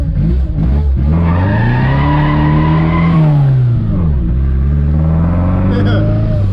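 A supercharged Chevette runs hard with its engine droning and pitching up and down while the tires squeal loudly and continuously, close and sustained, with voices faintly underneath.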